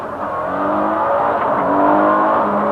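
A 1989 World Rally Championship car driven by Vatanen with co-driver Bruno Berglund gives a steady, close engine drone that rises slightly in pitch partway through, with no talk over it.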